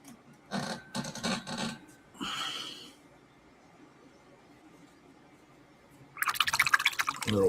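Water drips and splashes while a paint brush is rinsed clean, with a few sharp bursts early on, a quiet stretch, then a louder, steady rush of running water at the end.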